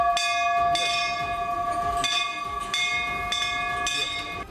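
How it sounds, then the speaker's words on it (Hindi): A temple bell struck repeatedly by a sensor-activated lever, ringing in about six evenly spaced, bright metallic strikes whose tones overlap and sustain, fairly loud over faint background noise. "मंदिर में आए एक श्रद्धालु ने बस घंटे की तरफ हाथ उठाया और बिना छुए ही घंटा बजने लगा।"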